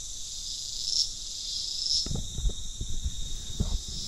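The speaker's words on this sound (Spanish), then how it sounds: "Y nada más se escuchan las chicharras." Cicadas buzz steadily in the countryside, a loud continuous high-pitched drone with a few pulsing swells, while faint low knocks and rustles sound nearby.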